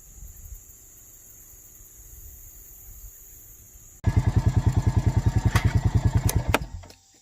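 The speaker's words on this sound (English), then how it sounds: "I am probably as far as I can go with the four-wheeler." A four-wheeler ATV engine starts up abruptly after a quiet stretch and runs close by with a loud, rapid, pulsing putter for about three seconds, then cuts off, in thick brush at an off-grid bush camp.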